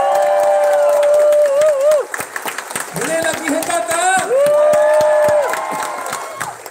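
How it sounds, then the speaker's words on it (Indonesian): An Amway seminar crowd claps and cheers loudly, with shouts and whoops rising over the applause while a voice speaks through the noise. The cheering swells in bursts across the span. "Sekarang boleh bagi satu tepukan yang hebat sekali"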